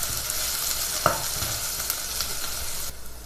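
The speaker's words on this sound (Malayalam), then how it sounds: "ഇഞ്ചിയുടെയും വെളുത്തുള്ളിയുടെയും പച്ചമണം മാറുന്നവരെ ഒന്ന് വഴറ്റി കൊടുക്കാം." Ginger garlic paste sautéing in hot oil, a dense, close sizzle with steady crackle throughout and a few stirring scrapes, no voices.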